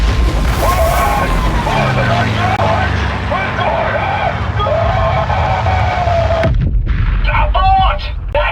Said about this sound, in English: That flak's thick enough to walk on!